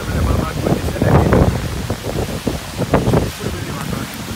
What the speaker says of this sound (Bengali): ঝড় উঠলো, প্রচুর পরিমাণে বাতাস বইতেছে,